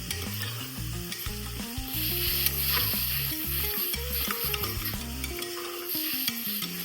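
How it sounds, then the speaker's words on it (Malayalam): Sliced onions sizzling in a frying pan with a spoon of salt while being stirred, a steady crackle with rhythmic scraping of the spoon against the pan, close and continuous, with music playing underneath. "സവാള ഒന്ന് വഴണ്ടി വരട്ടെ. എന്നിട്ട് നല്ലവണ്ണം ഇളക്കി കൊടുക്കാം"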